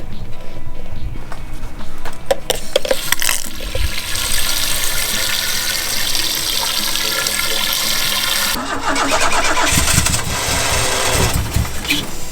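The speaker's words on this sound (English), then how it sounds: "the starter does sound like it wants to die" A harsh, rapid mechanical cranking and whirring from a failing car engine starter, loud and close, stopping and resuming in long bursts.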